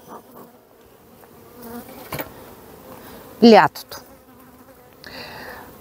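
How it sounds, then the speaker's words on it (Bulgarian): Swarm of honey bees buzzing, a brief loud droning burst near the middle over a quiet outdoor background, with a shorter buzz just after and a faint voice speaking. "Когато едно семейство се рои, десетки хиляди пчели в хаотичен вихър литват"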